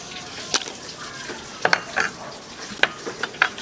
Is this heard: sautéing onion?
yes